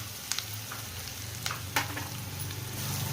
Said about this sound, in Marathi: आता याच्यात आपण जिरं टाकतो.